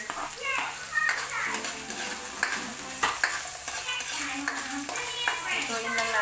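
Onion and garlic sautéing in oil in a hot pan, a continuous sizzle with repeated scraping and stirring strokes and pan clatter, voices and children's chatter mixed in the background.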